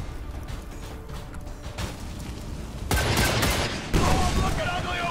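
Weapon fire in XCOM 2, a game battle during a supply train raid: a sharp, loud shot bursts in at about three seconds and a second one follows near four seconds, each leaving a sustained noisy roar after quieter game ambience.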